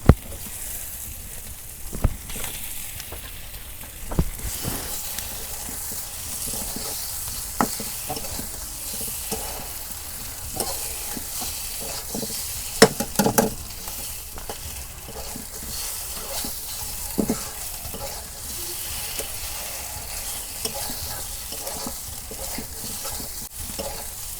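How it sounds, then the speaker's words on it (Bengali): Eggs cook in oil with onion and chili in a pan, giving a soft, steady sizzle with occasional sharp clicks and scrapes from stirring, and no talking. "পেঁয়াজ মরিচ তেল দিয়ে ভাজা নিলাম আগে এখন ডিম দিয়ে দিব"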